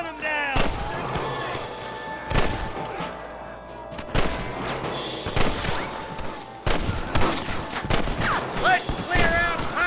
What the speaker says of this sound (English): Gun them down!